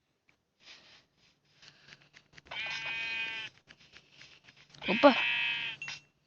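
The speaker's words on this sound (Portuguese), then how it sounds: "Vamos pegar ovelhinha ali, né?" A Minecraft sheep bleats twice, each time a clear, wavering cry lasting about a second, separated by soft clicks and small game noises, with a brief spoken exclamation.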